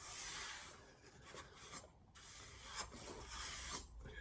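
A knife blade is worked across a Sharpel diamond plate sharpening stone to remove burr, a quiet, steady rasping scrape in repeated strokes heard alone.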